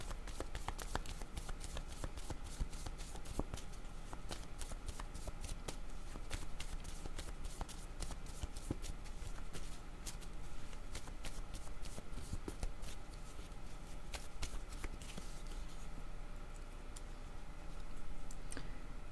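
Tarot cards being shuffled continuously, a dense run of soft riffling clicks and flutters close by, steady and unbroken throughout.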